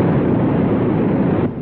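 An engine revving hard while wheels spin in mud, a dense, loud, continuous roar with churning rumble that drops off abruptly near the end.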